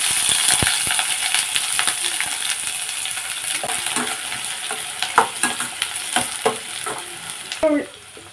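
Three dried red chillies and one or two finely chopped onions fry in hot oil in a kadai, a steady close sizzle with clinking stirring strokes growing more frequent toward the end.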